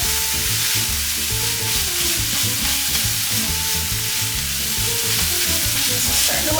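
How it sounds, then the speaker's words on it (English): Leeks sauté and wilt in a pan for crab risotto, a loud, dense, constant sizzle close up with no other sounds breaking through. "So now I'm just wilting these leeks, and they'll take probably just another little bit of time here"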